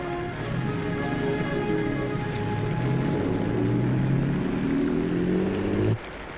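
A car engine revs and pulls away in the rain, a loud, close drone whose rising harmonic whine climbs steadily before cutting off abruptly near the end.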